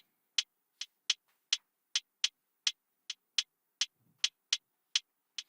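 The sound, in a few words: percussion loop with varied velocity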